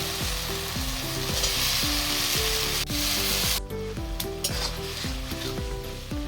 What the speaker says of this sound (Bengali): তো মশলা কষানো হয়ে গেছে, এবার দিয়ে দেবো টমেটো।